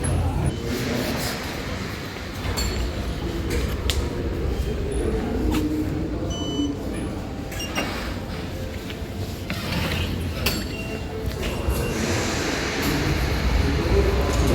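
Metro train rumble and station noise fill a new metro station steadily, with occasional clanks and faint voices in the background.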